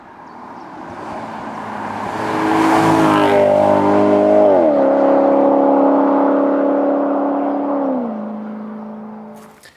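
A 2010 Maserati Quattroporte Sport GTS engine builds from a low idle into a loud, sustained rev, holds a strong droning tone with stepped pitch changes, then settles back down, heard close and with no talk.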